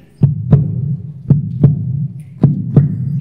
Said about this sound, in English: That heartbeat is the heartbeat of drums around the world.